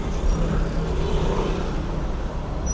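Steady road traffic rumbling through Naples streets, a dense continuous low wash of car and engine noise with no distinct pass-bys, moderately loud and unbroken.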